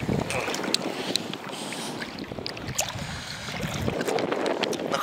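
Wading knee-deep into the sea at an evening beach in Canet-en-Roussillon, France, in late October, with water sloshing and splashing around the legs, steady surf and wind noise throughout.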